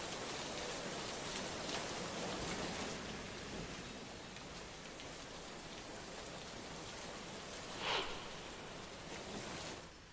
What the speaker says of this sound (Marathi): बदलापूर शहरामध्ये सध्या मुसळधार पाऊस कोसळतोय